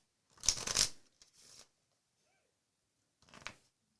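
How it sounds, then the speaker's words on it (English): A deck of playing cards gets a ruffle shuffle, heard as a quick riffling burst followed by two shorter, softer card sounds, close and quiet with no talking. "give it a little ruffle shuffle"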